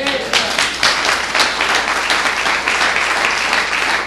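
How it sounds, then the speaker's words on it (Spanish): A crowd applauds steadily, a dense wash of many hands clapping close by for several seconds. "¿Cuántos le aplauden?"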